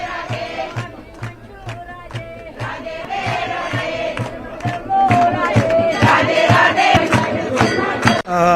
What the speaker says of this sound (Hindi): मंदिर में भक्तों की अच्छी भीड़ देखी जा रही है